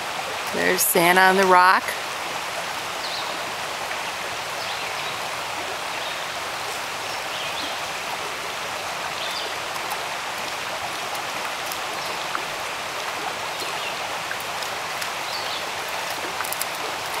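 A river in the Smokies flows steadily with an even, rushing wash of water that holds through the whole stretch, with a brief spoken line near the start.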